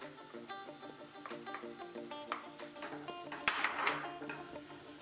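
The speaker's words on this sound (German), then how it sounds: "Wir schwitzen ihn kurz mit an." Ham stirred into butter in a pot to make Spanish croquetas, with a spoon clinking and scraping against the pot in an uneven rhythm over a soft sizzle, close and fairly quiet.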